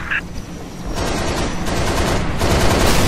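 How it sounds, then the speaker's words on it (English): Dense, steady gunfire from a Halo Reach campaign battle, a continuous rattle of shots building slightly in loudness over a few seconds, with no voices over it. "Watch for hostile fire."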